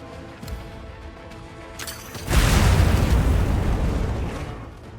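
A barrel bomb detonates in Monster Hunter Wilds, a sudden loud boom that rolls out into a long rumbling decay after a few quieter game sounds.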